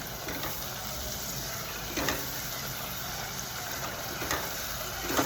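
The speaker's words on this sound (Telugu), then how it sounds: "కొంచెంసేపు మొత్తం పేస్ట్ అంత వేసేస్తున్నాను. కొంచెంసేపు వేగనివ్వాలి." Spice paste fries steadily in a pan, producing a constant, close sizzling hiss with a few faint scrapes and crackles rising out of it.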